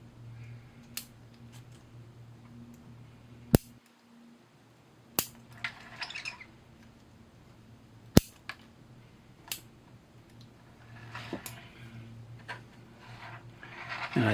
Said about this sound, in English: I'll take all these little shoots off.